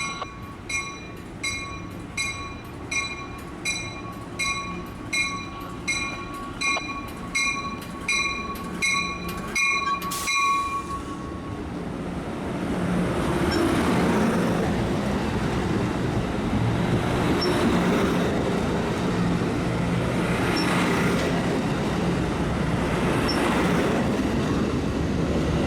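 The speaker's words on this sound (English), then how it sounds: "immediately caught Amtrak 581 Pacific Surfliner with service to Los Angeles" Amtrak Pacific Surfliner passenger train at Fullerton station: a steady run of rhythmic clicks as cars roll past, then a louder, broad wheel and rail rumble that holds on to the end, no voices.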